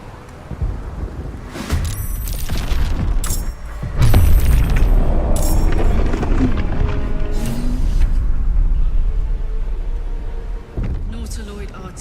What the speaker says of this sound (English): Nautiloid artillery. Steer clear.